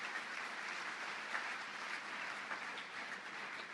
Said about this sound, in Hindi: तो जोरदार तालियों के साथ आप उनका अभिनंदन करें।